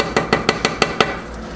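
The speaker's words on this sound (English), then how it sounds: "I'm just going to keep stirring so it doesn't burn or stick to the bottom." A spoon scrapes and knocks against a pot of fudge as it is stirred, six evenly spaced, close, sharp clinks in quick rhythm before falling quiet.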